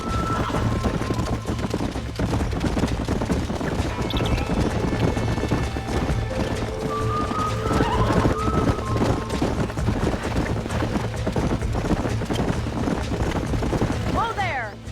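Horses in the Red Dead Redemption game clop steadily at a ranch, hooves pattering continuously with an occasional whinny, under background music and game ambience, with talk at times.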